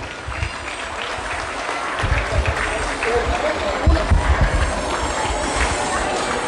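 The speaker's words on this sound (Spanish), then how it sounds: "Teresita Valdés Quiroz, el aplauso para ella." Crowd applause at a children's party, steady clapping from many hands lasting several seconds and swelling midway, with voices and chatter mixed in underneath.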